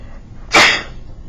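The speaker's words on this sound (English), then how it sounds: "excuse me, I have to sneeze." A single loud, close human sneeze, one sharp explosive burst after a quiet moment, trailing off quickly.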